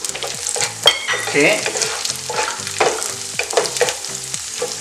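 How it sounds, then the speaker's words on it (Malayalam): Raisins fry in hot ghee in a pan for semiya payasam, sizzling steadily close up while a spoon stirs and scrapes in uneven bursts; a voice says one brief word. "ആ നെയ്യിൽ കിസ്മിസും അണ്ടിപ്പരിപ്പും വറുത്തെടുത്തു."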